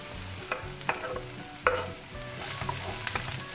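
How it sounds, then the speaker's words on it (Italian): Eggplant and zucchini frying in a pan after garlic is browned, a soft close sizzle broken by a few distinct scraping clicks as a utensil stirs the vegetables, quiet and without talk. "diamo una mescolata"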